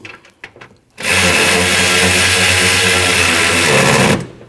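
A power tool spins steadily while tightening the top alternator bolt on a 2012-2021 Nissan NV2500 with a 5.6L V8, a loud close whir lasting about three seconds after a few faint clicks.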